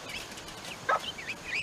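Soft clucks and high peeping come from a mother hen with a few young chicks in a crowded coop pen near a nest box: quiet scattered calls and one brief louder cluck, fairly close, with no talking.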